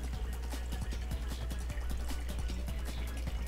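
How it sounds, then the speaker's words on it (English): A water bottle fills from a tap or dispenser, a continuous close trickle with rapid gurgling, dripping pulses over a low steady hum, no voices. "I'm gonna fill up this water bottle"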